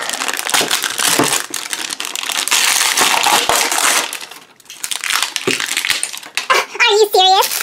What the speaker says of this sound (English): Unwrap.